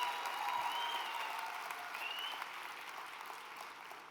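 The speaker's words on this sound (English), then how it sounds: "Let's give them a real big round of applause" A crowd at a swearing-in ceremony and welcome reception gives a big round of applause, a thick, continuous roar of clapping heard from a distance that slowly fades toward the end.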